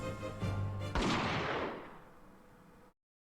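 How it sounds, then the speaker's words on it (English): A single sharp gunshot in The Great Ace Attorney Resolve, a loud close crack cutting off a tense music cue, then a long reverberant tail fading away over about two seconds into silence. "Jigoku shot Asugi from the shadows."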